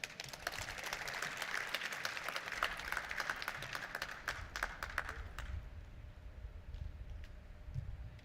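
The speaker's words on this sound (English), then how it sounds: "Please give President Uirap a proper round of applause." An audience at a budget dialogue event claps for President Uirap, a dense, sustained round of applause that thins noticeably after about five seconds into scattered claps.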